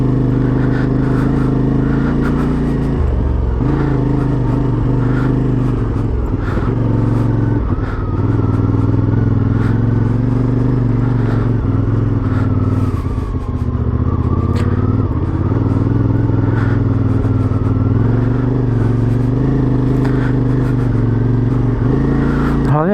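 A CF Moto 450 MT motorcycle ridden slowly through deep grass and lawn in winter, its engine a steady, loud low rumble throughout with occasional rev changes and light clatter, no talk over it.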